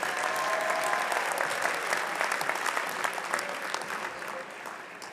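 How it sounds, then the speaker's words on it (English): A convocation audience applauds graduates of a Public Relations program, with steady, moderately distant clapping from a large hall that fades gradually and faint voices underneath. "Please give a round of applause for the graduates from the Public Relations program."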